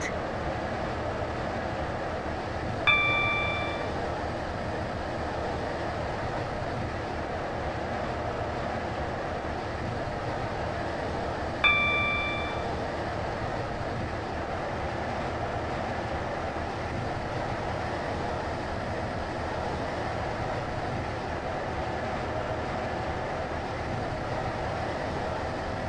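A Stepford Connect train runs steadily in a video game, a constant rolling hum with two short chime tones about ten seconds apart.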